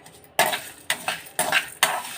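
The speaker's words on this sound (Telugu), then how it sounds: "కొంచెం పొడి వేసుకొని తిప్పుకుంటాను" Spoon stirring roasted ingredients and spice powder in a pan, four distinct scraping strokes at an even rhythm, close and clear with a faint sizzle beneath.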